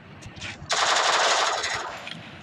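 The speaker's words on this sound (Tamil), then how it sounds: "ஜஸ்ட்டு இங்கிட்டு தான் கன் சத்தம் இங்கே இருக்கு" Gunfire in the Free Fire video game: one loud, rapid machine-gun burst lasting about a second, preceded by a couple of softer shots over faint background noise.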